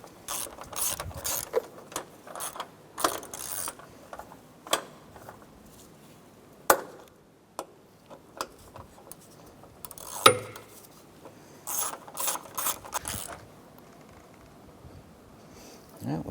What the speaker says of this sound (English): tighten down the bolts on this side here for the cross brace